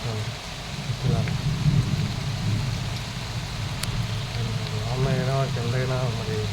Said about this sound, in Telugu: వీడియో చూస్తున్నారు, వానపడుతుంది చూస్తున్నారు